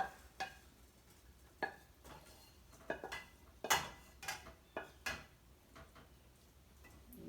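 Cooked broccoli rabe greens are plated into a bowl, with quiet scattered clicks and taps of utensil on dish at an irregular rhythm, faint and close, with no talking.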